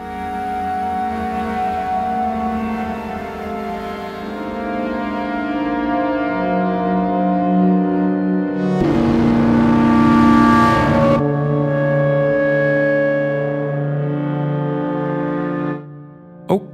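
Vertigo Wind virtual instrument sounds a randomized preset: a sustained, harmonically rich synth pad with shifting tones, a brighter noisy swell in the middle, then a steady drone cut off abruptly near the end.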